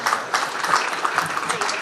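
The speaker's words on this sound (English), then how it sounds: "keep clapping if you're going to stand" An audience applauding at a Korean American Democratic association inauguration ceremony, dense steady clapping from a crowd that carries through without pause, fairly close and loud.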